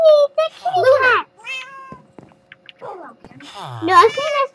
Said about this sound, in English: They're kitty cats!